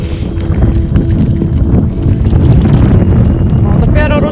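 Heavy, continuous wind buffeting the microphone while cycling against a headwind in Reykjavik streets, a loud low rumble steady throughout.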